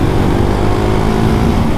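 A KTM Duke 690 R single-cylinder motorcycle pulls hard under acceleration, a loud continuous engine roar mixed with rushing wind and no pause throughout the short stretch.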